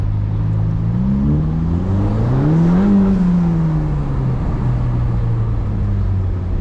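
A Ferrari Roma in race mode at night, its engine note climbing steadily to a peak and then easing back down into a sustained drone, loud and close with no talking.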